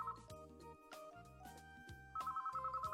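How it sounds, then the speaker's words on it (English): A phone rings in the ToHeart2 visual novel as a steady electronic ringtone, its repeating beeping pattern layered over quiet background music, with no talking. "Ringing erupts from the phone."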